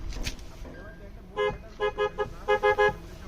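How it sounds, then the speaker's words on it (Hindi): A car horn toots several times in short beeps, one single, then a quick pair and a triple, fairly close. "शुरू हो गया हॉर्न"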